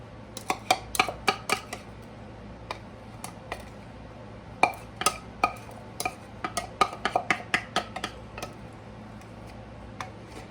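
Wet ingredients with molasses stirred together in a bowl for gingerbread cake, close irregular clinks and taps of a utensil against the bowl in uneven bursts over a quiet background.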